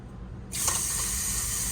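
Water bursts on from a bathroom sink faucet in a Forest River Salem Hemisphere Elite fifth-wheel RV, switching abruptly from quiet to a steady close hissing stream with no talk.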